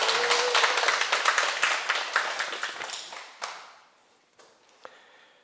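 An audience at a Buddhist teaching talk applauds warmly, a dense wash of clapping that fades away after about three seconds, leaving only a few scattered claps.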